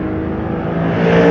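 An Audi performance saloon with a 4.2-liter naturally aspirated dual overhead cam V8 accelerating hard, a loud, close engine note climbing steadily in pitch over about a second.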